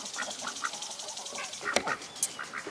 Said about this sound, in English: So these are apple yard ducks right here.